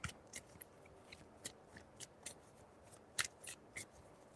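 Tarot cards being shuffled by hand, a run of soft papery riffles and slaps spaced unevenly, close and fairly quiet with no voices.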